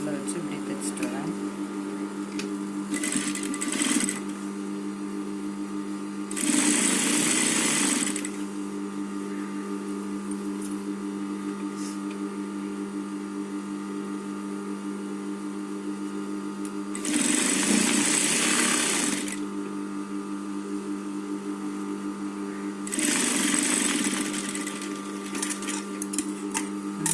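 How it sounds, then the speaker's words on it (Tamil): A sewing machine stitching a cloth bag, running in three separate bursts of steady mechanical whirring a few seconds each, with a constant low hum between them. "பையோட நல்ல பக்கத்தில் இந்த பிசுரை உள்ள வச்சு இப்படி தைச்சிட்டு வரேன்"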